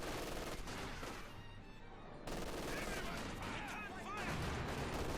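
Gunfire and explosions in a Company of Heroes 2 battle, with light machine gun bursts and rifle shots rattling densely over a commentator's continuous talk.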